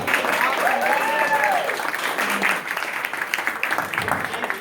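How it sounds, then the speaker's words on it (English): Steady, fairly loud clapping from a panel audience fills the whole stretch, with a few faint voices underneath. "can we give another round of applause?"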